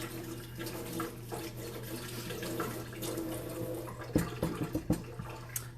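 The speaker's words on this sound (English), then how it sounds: "let me wash my hands and I'll be right back" Tap water runs into a sink while hands are washed, a continuous close splashing flow with irregular bursts and splatters toward the end.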